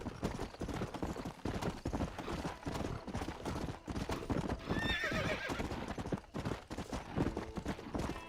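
A horse in the video game Red Dead Redemption gallops with rapid, rhythmic clip-clop hoofbeats, close and steady throughout, and a whinny rises midway.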